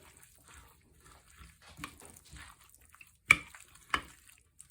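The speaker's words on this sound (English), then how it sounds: "I'm just going to mix all of this together" Home-grown shredded potatoes for a cheesy hash brown casserole being stirred together in a bowl: faint, sparse wet rustles with a few sharper clicks and knocks near the end.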